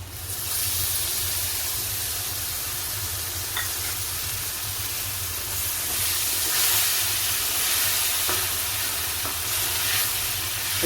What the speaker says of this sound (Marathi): तेल सुटेपर्यंत आपल्याला प्युरी परतायची आहे शिजवायची आहे चांगली